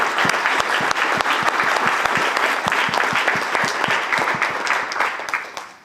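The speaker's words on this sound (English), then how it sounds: "For this effort, let's give them a big round of applause." Sustained applause from an audience honoring flight cadets at a closing ceremony, steady dense clapping filling the whole stretch and tapering slightly at the end.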